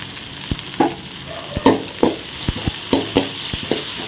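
Onion and garlic fry in a pan for kara kuzhambu, a soft sizzle broken by a run of sharp spatula scrapes and knocks as they are stirred, close and fairly loud.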